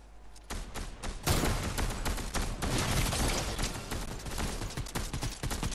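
Dense assault rifle fire in a Warzone-style shooter, with sustained rapid bursts of loud, crackling shots over several seconds.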